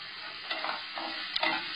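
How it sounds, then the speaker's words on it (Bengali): Spices with half a spoon of chili powder sautéing in a pan for mixed dal, a steady close sizzle with occasional stirring scrapes, no voices. "মশলাটা আমার কষা হচ্ছে।"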